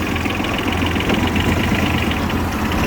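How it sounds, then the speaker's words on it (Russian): A Mitsubishi MTX15 4WD mini tractor engine idles close by, a steady rough low chugging with knocking texture and broadband clatter, continuous and unchanging. "Трактор с холостых ехать не захотел."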